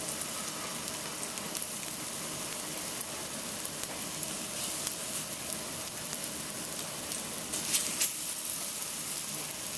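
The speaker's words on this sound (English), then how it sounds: "You're going to hear that nice sizzle" Constant crackling sizzle of plantains frying in a hot pan, close up, with occasional louder pops and spits.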